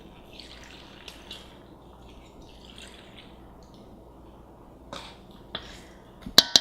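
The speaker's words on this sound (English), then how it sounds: "Now I add water, about 2 cups of water." Water is poured into a kimchi mixture, about two cups, with soft splashing and trickling at moderate level, followed by a few sharp drips and taps near the end.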